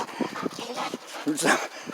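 Dog named Redemption whimpering and making short yelps close by, a run of quick whiny bursts that rises into a louder cry near the end, with a person talking over it.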